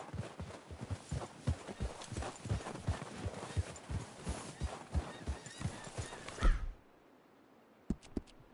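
Horse hooves clip-clop at a steady walking pace in Red Dead Redemption 2, close and clear, then stop, followed by a few faint clicks.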